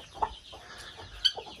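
Chickens cluck on a small farm at night, a few short, close clucks and squawks over quiet background noise.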